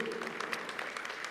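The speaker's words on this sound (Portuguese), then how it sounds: "Bate forte essas palmas para Nossa Senhora e para a palavra de Deus." A church congregation claps steadily in continuous, moderately distant applause with soft, irregular hand slaps and faint murmuring underneath.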